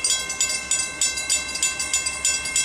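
A train rolls through a railroad crossing close by, its wheels clacking in a steady rapid rhythm over the rails, loud and with no voices over it.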